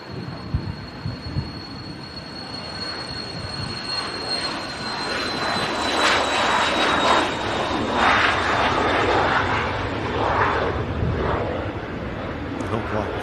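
A jet airliner departs from an airport, its broad engine roar building and holding steady over several seconds with a high whine above, heard from a distance alongside occasional talk.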